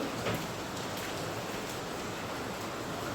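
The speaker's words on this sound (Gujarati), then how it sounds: "મારે થોડો વરસાદ આવે છે" Steady, even rain hiss with no pauses, moderately loud and continuous, a few faint brief clicks on top, no voices.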